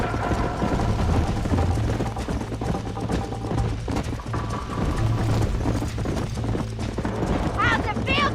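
Horse hooves galloping in Red Dead Redemption, a continuous clip-clop rhythm under game music and spoken dialogue, with a brief whinny near the end.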